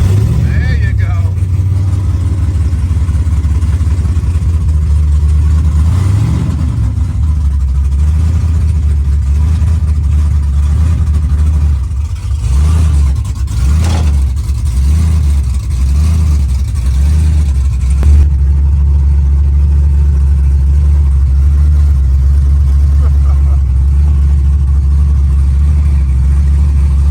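A car engine running after a push start, a loud, steady low rumble close by with a few rhythmic revs swelling in the middle before it settles back to an even idle, with people talking over it.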